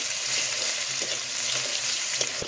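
Chopped onion, bay leaf and garam masala fry in oil in a pan with a dense, continuous sizzle and faint occasional stirring taps.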